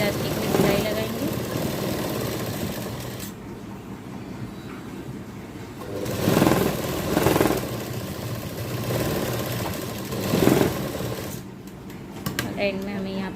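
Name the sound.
sewing machine stitching elastic into palazzo pants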